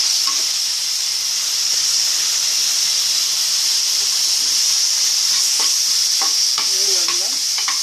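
Chopped onions and tomatoes frying in oil for brinjal masala curry, with a loud, steady sizzle and hiss up close and a few scraping stirs near the end.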